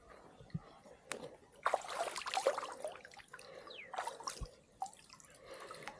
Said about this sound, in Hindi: वाकई ये गर्म पानी का चश्मा है और ये गर्म पानी निकल रहा है